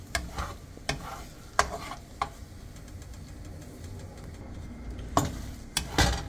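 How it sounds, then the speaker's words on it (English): An egg fries on lowered heat in a hot pan while fried rice is being made. A steady, soft sizzle runs under scattered scraping and clinking stirring strokes, with no talk. "I turn the heat down because I don't want my egg to burn."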